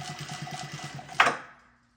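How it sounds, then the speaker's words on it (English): Sewing machine stitching the side seam of a barrel golf headcover, a rapid, fairly quiet run of even mechanical stitches for under two seconds, ending with a brief louder clunk before fading out. "So she's sewed up the side of it now, so it's closed."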